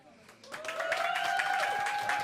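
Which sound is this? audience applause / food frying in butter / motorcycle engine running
audience applause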